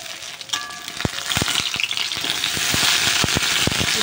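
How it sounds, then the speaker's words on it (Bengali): Battered pumpkin flower fritters fry in hot mustard oil in a wok, a steady close sizzle that builds in intensity, punctuated by sharp crackling pops. "এক এক করে কিন্তু আমি সব কড়াই ফুল দিয়ে দিচ্ছি"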